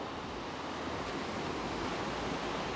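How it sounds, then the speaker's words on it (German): Sea waves rush steadily against the shore beside the Side Strand promenade in the evening, a continuous broad surf roar with no talk. "Und der Wellenrausch ist auch wirklich sehr, sehr herrlich."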